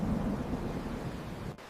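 A dense, low rumble of thunder rolls through a raging storm with steady rain, powerful and unbroken, then drops out abruptly near the end.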